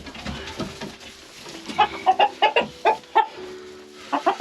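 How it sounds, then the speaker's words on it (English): A rooster clucks repeatedly in short, rhythmic bursts, close and fairly loud, with quieter rustling at the start. "then we're gonna go catch our rooster"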